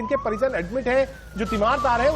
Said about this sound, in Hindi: सायरन की आवाज आप सुन सकते हैं